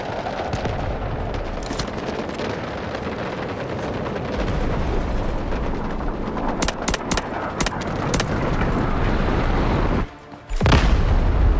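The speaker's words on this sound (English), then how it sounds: "Guided missiles launched." Guided missiles launch and explode in the video game Delta Force, a dense battle roar of booms and gunfire that swells, breaks briefly near the end, then returns loud.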